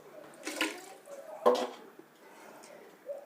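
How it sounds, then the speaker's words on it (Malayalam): Water is poured from a vessel into a pot of rice in a few quiet, brief splashing bursts, with soft gaps of near silence between them. "മൂന്ന് മുന്ത വെള്ളം ഒഴിച്ചു."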